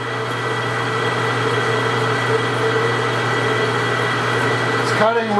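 A Precision Matthews 1640 lathe drills heavily into steel for a PTO adapter, a loud steady motor hum and whine with a grinding cutting tone that continues without break and shifts briefly near the end.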